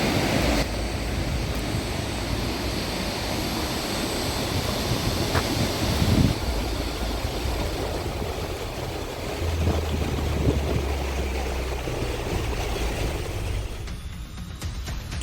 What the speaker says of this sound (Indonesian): Kita sudah mendengar beberapa suara gemercik air, kemudian sudah agak dekat menuju ke air terjun Coban Talun.